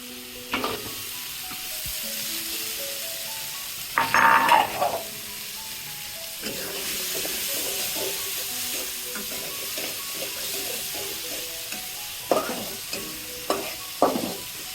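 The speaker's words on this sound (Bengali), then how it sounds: "মশলা কষা হয়ে গেছে, এখন আমি কিছু আলু আর কিছু কাঁঠালের বিচি দিয়ে দিচ্ছি ঝোলের সাথে।" Potatoes and jackfruit seeds are stirred into spiced masala frying in a pot for a pangas fish curry, giving a steady sizzle broken by scraping stirs and a few louder clattering bursts of the spoon against the pot.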